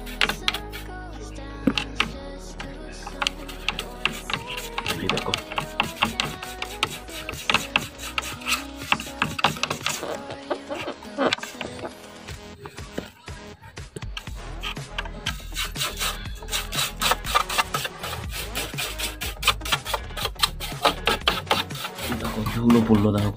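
A brush being rubbed over a dusty motorbike part during a home service, producing dense rapid scrubbing strokes close by that run throughout, with a person talking over them.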